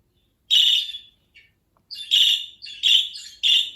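A budgerigar chirps in short, bright bursts, a single call followed by a rapid series of trills separated by brief silences, close and clear.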